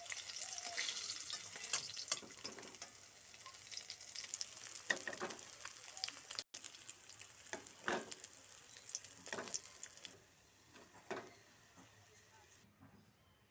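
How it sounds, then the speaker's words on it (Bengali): Pieces of katla fish fry in hot oil in a kadai, giving a soft crackling sizzle with scattered pops and spatula clatters, fading toward the end. "এবার মাছগুলো আমি তেলের মধ্যে দিয়ে দিচ্ছি।"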